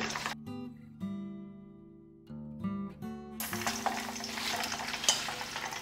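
Battered salt and pepper prawns frying in hot oil, a steady close sizzle with bursts of bubbling that swell louder toward the end, alongside tonal hum from the kitchen.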